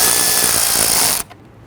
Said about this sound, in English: Now let's go ahead and tighten on the front one.